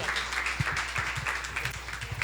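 A church congregation claps together in a steady patter at moderate volume, continuous through the moment with a voice faintly present beneath it.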